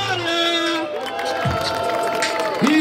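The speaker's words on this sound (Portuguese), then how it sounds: "salva de palmas pra batalha" Crowd at a freestyle rap battle cheering and clapping, a lively noisy mass of shouts and whoops under a loud voice and music tones, continuous and fairly close.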